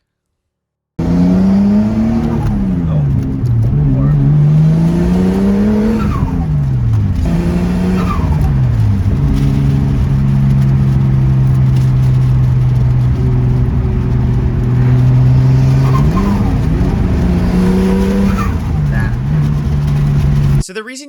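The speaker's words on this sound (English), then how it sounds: "It almost sounded like a open compressor surge or something like that." A 1996 Nissan Skyline R33 GTST revs hard on a drive, its engine note climbing and dropping repeatedly over a loud, steady drone heard from inside the car, with faint fluttering whooshes like compressor surge between revs.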